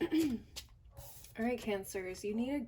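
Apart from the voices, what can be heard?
No everyday noise stands out behind the speech.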